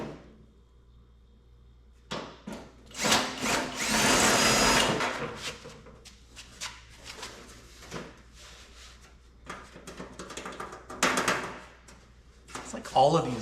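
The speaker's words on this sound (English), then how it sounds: "let's drill out these rivets" A handheld drill whirs in short bursts, drilling out loose metal rivets on a truck day cab interior, with pauses between, close by, while a person talks in between the drilling.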